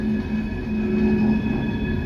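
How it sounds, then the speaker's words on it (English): A short coal train running back to the mine along the railway, a steady low rumble and rolling drone with a faint sustained hum, continuous and fairly close with no voices. "they're running the short train back to the mine, getting more coal"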